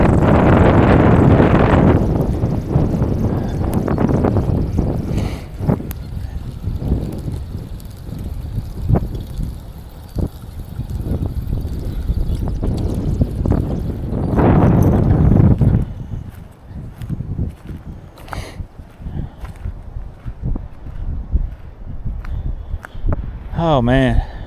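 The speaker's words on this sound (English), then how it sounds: "It is so windy." Strong gusts of about 27 mph buffet the microphone by a lake during spring fishing, roaring in heavy bursts that ease and return, while someone talks over the blowing wind.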